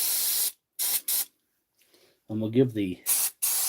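A spray cleaner is squirted onto the drive wheel of a DeWalt power tool being repaired, giving several short, loud hissing bursts, with a person speaking briefly between the sprays.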